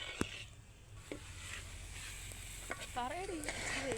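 Chicken curry base with crushed ginger and garlic stirred and sizzling in a pot over an outdoor stove, a steady fry hiss with a few scraping strokes and a short tonal squeak near the end, no talk.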